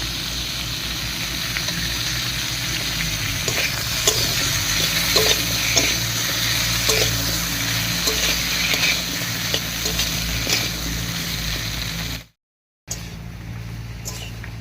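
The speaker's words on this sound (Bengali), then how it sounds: "মশলা বাটা দিয়ে খুব ভালো করে মিশিয়ে নিয়েছি" A ground spice paste fries and sizzles in a pan while a spoon stirs it steadily, the loud, constant frying hiss broken by scraping strokes, with a short silent gap near the end.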